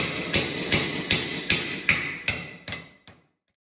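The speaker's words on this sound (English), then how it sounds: "nice to have a hammer drill to actually drill a hole." A hammer drill boring a hole, heard as eight evenly spaced loud impact bursts, each with a short ringing decay, fading toward the end.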